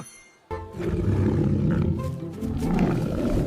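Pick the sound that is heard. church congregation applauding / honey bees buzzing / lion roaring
lion roaring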